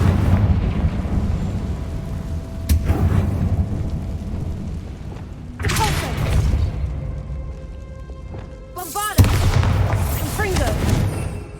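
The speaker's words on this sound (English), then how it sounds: "Confringo!" Confringo fire spell blasts from the video game Hogwarts Legacy go off, three heavy booming bursts with rumbling fiery tails, mixed with game sound and a voice.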